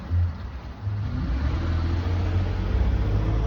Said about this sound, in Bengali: এটা ফোর্ড গাড়ি যাচ্ছে